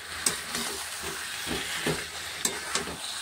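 Potatoes and green chillies fry with chicken in a pan, giving a steady soft sizzle with occasional sharp stirring clicks and scrapes close by.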